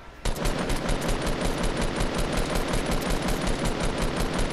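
Rapid sustained automatic gunfire in the video game Fortnite, a dense, loud, evenly spaced burst that starts abruptly and runs without pause.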